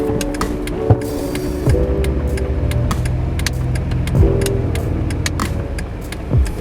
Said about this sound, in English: so we pulling up the AutoZone now.